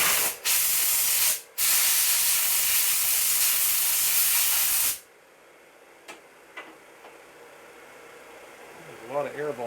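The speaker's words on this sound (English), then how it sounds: "There's a lot of air volume on that nozzle." Compressed air blasts loudly through a high-flow air nozzle in two hissing bursts, broken by a short gap. It cuts off sharply, leaving quiet shop noise and a few faint clicks.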